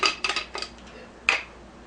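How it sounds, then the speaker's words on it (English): Small clinking and scraping clicks as the lid of an e-cleaner cartridge for a Leveluk SD 501 water machine is unscrewed, a quick cluster of close taps followed by one sharper click after a short pause. "Just unscrew the lid right here."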